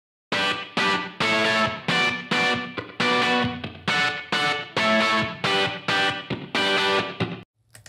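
For the chorus, a distorted rhythm guitar runs through a lo-fi plugin and hammers out rhythmic strummed chord bursts. Each burst is loud and evenly spaced, with no voices, and the playing cuts off sharply near the end.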